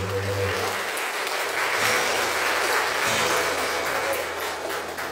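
A church congregation at Sunday Mass claps together in a sustained, dense round of applause that fills the room, fading slightly toward the end.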